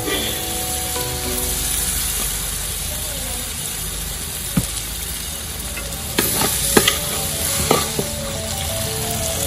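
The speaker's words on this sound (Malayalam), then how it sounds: "ഇഞ്ചി വെളുത്തുള്ളി പേസ്റ്റ് ആഡ് ചെയ്യാം" Ginger garlic paste fries in a large pot for a big batch of chicken biryani made with about 8 kilos of chicken. A continuous sizzle runs throughout, broken by clanks and scrapes of stirring.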